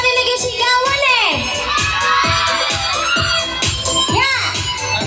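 A concert audience at a live singing show shouts and cheers loudly, a dense wash of high-pitched voices with excited whoops rising and falling throughout.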